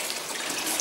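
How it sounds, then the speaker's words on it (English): A water trough fills in a shed housing TB-restricted calves, giving a steady hiss and splash of running water, short and continuous, at moderate volume with no voices. "I'm waiting for this water trough to fill up."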